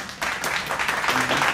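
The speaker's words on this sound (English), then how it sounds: "Let's give a round of applause for Hassan that came all the way from Kabul." A talk-show audience claps in steady applause, a dense patter of hands from a crowd rising quickly and holding.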